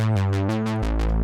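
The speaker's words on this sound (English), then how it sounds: "now what you're hearing is basically a saw bass, right? Because that's just the saw waveform." Raw saw-wave bass from a Behringer PRO3 synthesizer, a few buzzy repeated notes with a filter sweep, steady and loud with no voices.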